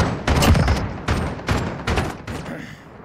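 Call of Duty Modern Warfare gameplay gunfire: several loud, sharp bursts of rapid automatic shots in quick succession, close and punchy, each trailing off briefly.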